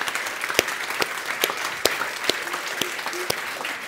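Conference audience at a head and neck cancer meeting offering a round of applause, sparse and fairly faint, with a handful of distinct louder claps standing out over a thin spread of clapping.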